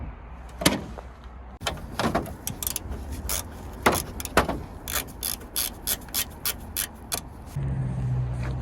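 A ratchet wrench clicks through quick bursts while loosening the 8 or 10 mm headlight bolts on a Chevrolet Silverado 2500 pickup, close and rhythmic, with a few metallic clunks between the runs.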